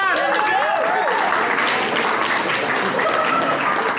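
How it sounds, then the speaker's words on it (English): A crowd applauds steadily for the guest at a live Q&A show, dense clapping sustained throughout with a bright, continuous wash and a voice briefly audible at the start. "Guys, round of applause for Shawn."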